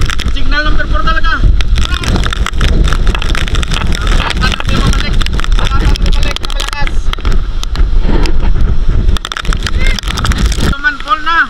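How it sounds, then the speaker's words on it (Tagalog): Powerful Typhoon Tino winds roar and buffet against the microphone outdoors, loud and continuous with gusty surges, while people talk throughout. "Maraming hangin. Grabe."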